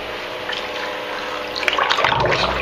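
Engine parts from a Yanmar 3GM30 marine diesel being sloshed and submerged in a bucket of warm soapy water, a steady close splashing and gurgling with no talk.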